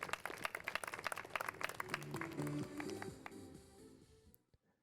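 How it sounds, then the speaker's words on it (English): Scattered clapping from a small outdoor gallery at a junior disc golf world championship, brisk for a few seconds and then fading, with a faint voice in the middle. "applause going for Zeb Taylor."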